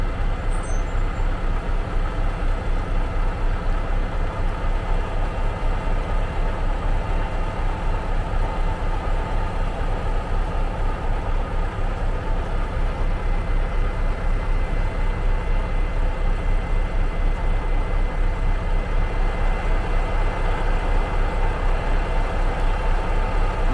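Stooksbury's tow truck at an accident scene on Old Knoxville Highway in Sevierville, Tennessee, heard as a loud, steady engine rumble with idling traffic, continuous throughout with no breaks.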